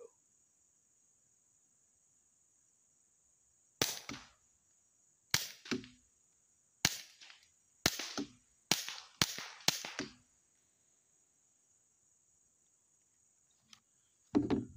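Seven sharp, suppressed gunshots fire in an irregular series, each a short crisp crack with a brief tail, against a quiet background with a steady high whine.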